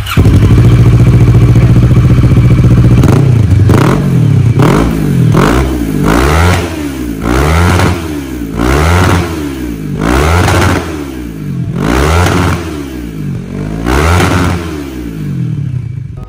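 Kawasaki ER6N motorcycle with an Akrapovic full-system exhaust: a loud, close idle gives way to about nine sharp throttle blips, each engine note rising and falling in a regular rhythm, with no talking.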